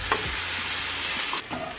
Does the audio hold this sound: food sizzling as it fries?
yes